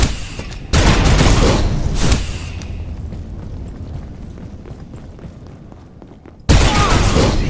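A frag grenade bursts in a combat video game with a loud, heavy blast, then a long rumbling decay, and a second sharp boom hits near the end.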